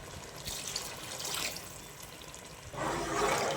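Water is poured into a pot of soaking seeraga samba rice, heard as a close, continuous splashing, gurgling pour that swells louder toward the end, with no talking.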